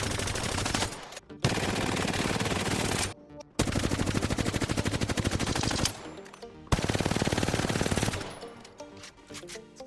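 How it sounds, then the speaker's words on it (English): Bursts of rapid automatic weapon fire in Apex Legends, three long sustained volleys separated by brief pauses, loud and close with dense rattling shots and no talking. "you will be able to predict and smooth the recoil on your weapons when shooting."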